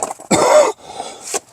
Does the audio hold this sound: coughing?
yes